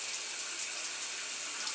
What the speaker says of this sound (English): the shower is getting really hot